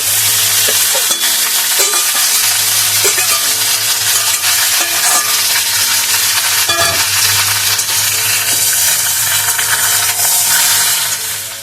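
Vegetables for Bengali shukto hit a hot pan with bay leaf, setting off a loud, dense, continuous sizzle and frying crackle, with stirring scrapes mixed in throughout.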